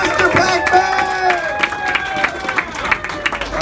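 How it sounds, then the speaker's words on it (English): Live audience at a comedy roast event applauding and cheering for a performer taking the stage, a dense wash of clapping and whoops with sharp cheers poking through, filling the room steadily throughout. "Round of applause for Mr. Pac-Man!"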